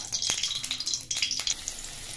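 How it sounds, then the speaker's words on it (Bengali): Fish paratha frying in butter in a pan, a close, crackling sizzle with bright spitting pops and occasional soft stirring scrapes. "দেখো এটাকে ভালো করে ভাজতে হবে।"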